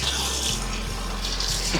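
Tap water runs steadily into a sink while animal food bowls are washed at the end of the day's animal care routine, a close, continuous splashing rush with no talking.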